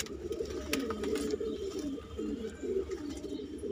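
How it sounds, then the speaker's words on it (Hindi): Katdar nafta pigeon cooing in a pigeon sale setting, steady low throaty coos repeating in a continuous rolling rhythm, close and moderately loud, with faint background noise and no talk. "देखो जी, एक ये काटदार नफ्ता कबूतर है मेरे भाई, ये चढ़ रहा ऊपर।"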